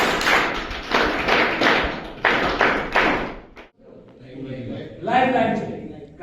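Several loud, dense bursts of group clapping in a counselling session on assertiveness for people in addiction recovery, close and rhythmic, then stopping as a voice speaks over quiet room noise.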